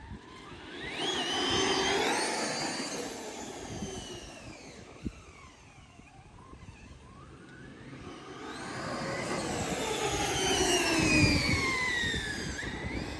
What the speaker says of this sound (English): So that's all belt noise now.